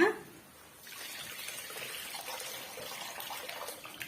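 Strained tamarind water is poured into a pot of mathi fish curry, a soft, faint trickling stream that starts after a brief pause and continues steadily to the end.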